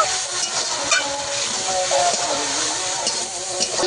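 Turmeric and coriander powder frying with other spices in a pan for a taro stolon dish, a close steady sizzle and hiss with light scraping and stirring knocks throughout.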